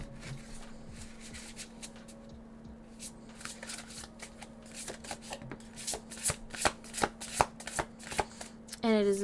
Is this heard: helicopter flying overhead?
no